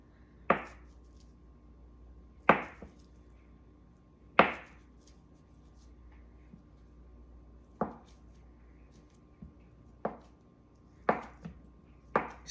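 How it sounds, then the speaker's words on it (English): A knife cuts a block of tofu into bite-sized pieces on a board, producing crisp, fairly faint chops at irregular intervals, one every second or two, over a quiet background hum. "So then you just got this block of tofu, and I just cut it into little"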